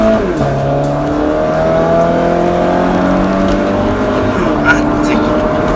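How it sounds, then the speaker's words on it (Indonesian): A Toyota FT86 Rocket Bunny accelerates hard in first gear in sport mode, its engine note climbing steadily in pitch as it revs up, loud and close from inside the car, with voices talking over it. "nih saya langsung becek aja nih di gigi 1 mode sport"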